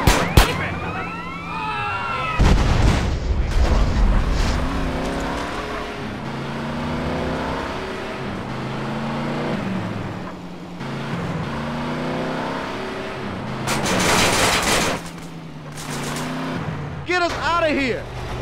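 An Ikco Runna car revs and accelerates hard in GTA San Andreas. Rising and falling engine tones play with siren-like wails and crashes, while a voice talks over most of it.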